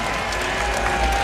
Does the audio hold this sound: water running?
no